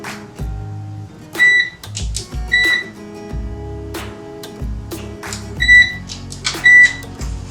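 Electronic oven control panel beeps several times as buttons are pressed to set a preheat, short sharp tones in a loose sequence with soft clicks and thumps between them, close and clear.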